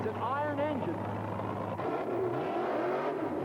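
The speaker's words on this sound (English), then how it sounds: "A big 500 cubic inch Chevy engine, an iron block." A big 500 cubic inch iron-block Chevy drag racing engine revs and roars at an Australian drag strip in the 1980s, its throaty drone running steadily beneath a commentator's voice.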